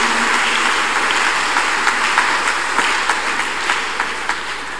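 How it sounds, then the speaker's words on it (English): Church congregation at a Thursday counselling and deliverance service applauding, a broad sustained roar of many hands clapping with some sharper individual claps, steady and gradually fading slightly. "Let's clap unto God and appreciate him for that protection"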